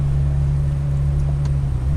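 A Ferrari fitted with a Tubi exhaust on the Montlhéry speed ring at low speed, heard as a steady, deep engine drone with a strong low hum, close and continuous without revving.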